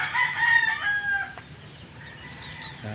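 Backyard chickens and a rooster are heard, with a loud rooster crow at the start followed by fainter clucking and soft hen sounds at moderate distance, and no talking.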